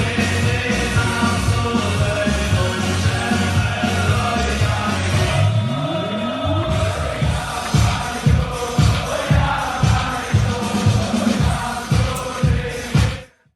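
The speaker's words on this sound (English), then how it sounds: "here's the secret Orthodox wedding that happened over the weekend of thousands of people in attendance" Thousands of guests at an Orthodox wedding dance in a dense crowd, loud and close, with chanting voices and a steady bouncing beat pounding throughout until an abrupt cutoff.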